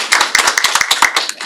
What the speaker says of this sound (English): Let's clap for Blada.